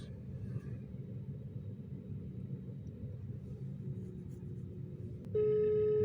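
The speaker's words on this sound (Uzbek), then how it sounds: "Telefon qilib ko'ramiz." A low, steady rumble fills most of the clip, then a telephone ringing tone cuts in clearly near the end.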